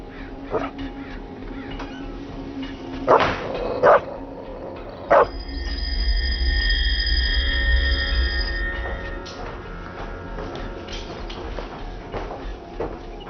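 A dog in a film scene gives a few scattered barks and yips, a close burst in the middle, followed by a low rumble and a steady electronic tone that fade out.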